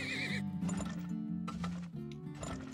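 A horse in the trading game Turmoil whinnies loudly and close at the start, then its hooves clip-clop steadily under dense background sound.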